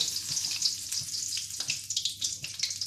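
Spoonfuls of moong dal batter frying in hot oil for dahi bhalla, a steady close sizzle and crackle with small splashy bursts and no voices.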